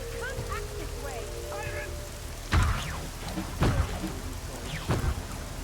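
Steady rain patters in a Deus Ex: Mankind Divided scene while three sharp thunder cracks boom at intervals; muffled voices and faint tones sit beneath the downpour.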